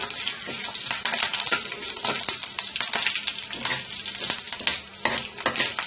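Curry leaves sizzle and crackle in hot oil for upma, a dense steady frying hiss with sharp pops and spits running throughout, close and loud, with no voices.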